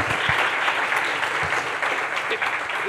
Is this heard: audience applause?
yes